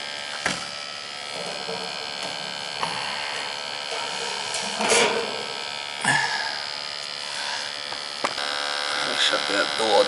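A kerosene space heater, just repaired after combustion problems, runs turned up with a steady electrical-sounding hum and buzz that persists throughout, broken by a few brief clicks and knocks and faint background voices.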